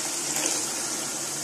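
Water pours into a pan of cooking potato and mogray (radish pod) curry, a steady broadband splashing rush that stays even and moderately loud for a second and a half, with no voices.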